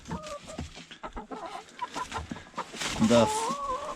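A chicken clucks and squawks inside a coop with leaf bedding on the floor, agitated and close, with short, irregular calls and rustling while a person speaks quietly nearby.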